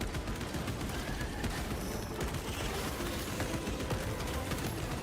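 Bolt gun fire in a Space Marine video game, a dense and fairly quiet barrage of repeated shots and impacts packed together over the whole stretch, with no speech.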